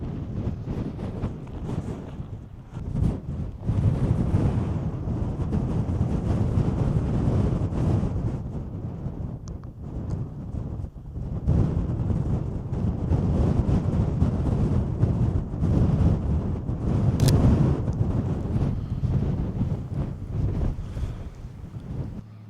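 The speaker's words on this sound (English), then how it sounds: "Sorry, it's so windy." Strong, steady wind buffets the microphone throughout on an outdoor mountain hike, a continuous loud low roar with gusty surges and no voices.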